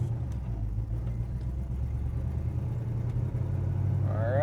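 A 1965 Pontiac GTO pulls away in first gear, its engine giving a steady low rumble that swells slightly as it accelerates, heard from inside the car with no talking.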